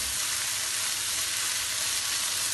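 Vegetable chicken chowmein fries in a hot pan with a dense, loud, even sizzle while being stirred, a close continuous hiss with no voices.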